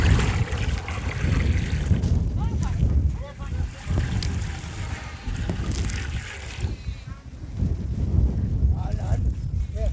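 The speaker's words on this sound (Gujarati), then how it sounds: "તો હવે તપેલામાં આપણે બટેટા ડૂબે એટલું પાણી નાખી દઈએ" Water pours steadily into a cooking pot, enough to cover potatoes for boiling in vada pav preparation, with a continuous splashing trickle heard under ongoing talk.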